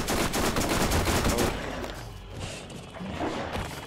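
A submachine gun fires rapidly in the PC game Borderlands, a loud, dense stream of shots lasting about a second and a half before cutting off, leaving quieter game ambience and a few softer thumps.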